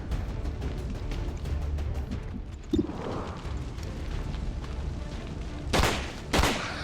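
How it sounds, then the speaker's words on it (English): Grenade blast in the squad tactics game XCOM 2, a sharp broadband burst followed by a second close boom, both rising out of a dense, rumbling battlefield background of gunfire and ambience. "Grenade."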